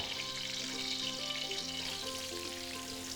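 Onion frying in a pan for Thai chicken stir-fried with roasted chili paste, a dense steady sizzle with faint stirring and a tonal hum running underneath, no voices.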